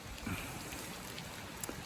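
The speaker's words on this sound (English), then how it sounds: "it is raining like crazy" Heavy rain pours down steadily, a dense, even wash of falling water with flooding runoff nearby, close and continuous with no voices.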